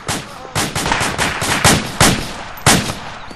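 Gunfire in the ARMA 2 Operation Arrowhead combat game, loud repeated rifle shots in irregular bursts, about six sharp cracks with rolling echoes over several seconds.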